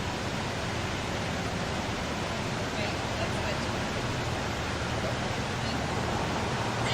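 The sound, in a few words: Lateral Falls waterfall, Columbia River Gorge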